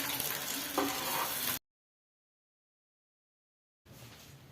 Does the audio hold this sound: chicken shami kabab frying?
yes